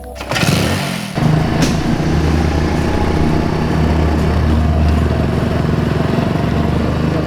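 A motorcycle engine catches after a brief low rumble, then settles into a loud, steady running drone that holds for several seconds, close up, with no speech.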